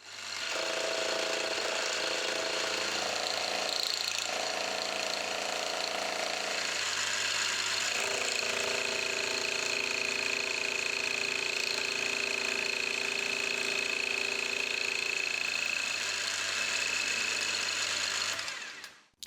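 A metal block set at 45 degrees in a milling setup has each corner chamfered off for a vise stop, giving a steady, loud machining whine with a constant motor hum that runs continuously and cuts off at the end.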